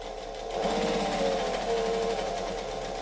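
A sewing machine stitches an eyeglasses case, running steadily at close range after a quiet start and keeping a continuous mechanical whir without breaks.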